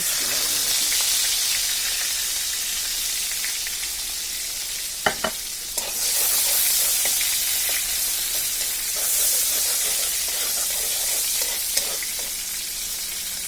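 Chopped garlic dropped into hot oil for a kochu shak (taro leaf) dish, producing a dense, bright sizzle with a few sharp utensil clacks as it is stirred, without any speech.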